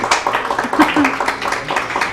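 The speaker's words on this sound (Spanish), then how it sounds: "Un aplauso, por favor." Scattered audience clapping at a digital branding communication talk, individual claps audible as a loose rhythm while a few voices talk through it.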